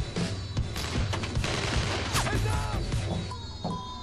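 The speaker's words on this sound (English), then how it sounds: "Grenade! Take cover!" A grenade explodes during the intro cinematic of Far Cry 3, a loud blast amid dense, continuous crashes and gunfire-like bursts, with a faint voice in the mix.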